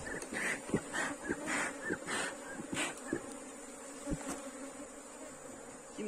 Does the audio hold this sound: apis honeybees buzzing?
yes